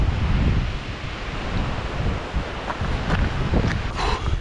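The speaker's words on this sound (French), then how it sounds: "Il y a des rafales de malade, ça caille." Strong, cold wind gusts buffet the microphone at an exposed mountain viewpoint on a hiking trail, a loud continuous roar that surges and eases, with no voices.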